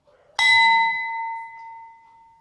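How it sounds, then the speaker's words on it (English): A tuning fork is struck once with a sharp tap, then rings as a clear, pure sustained tone that slowly fades over about two seconds. "this is another example of what vibratory motion, tuning fork, vibratory motion"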